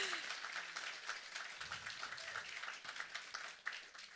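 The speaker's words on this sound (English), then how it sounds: "Can we get a round of applause?" Quiet audience applause at a spotlight talk, a steady distant patter of clapping over several seconds with a low voice briefly underneath.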